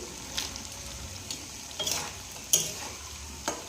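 Fig curry with lentil dumplings cooks in a pan, giving a soft, low bubbling sizzle with a few brief scraping or tapping sounds, fairly quiet and without any voices.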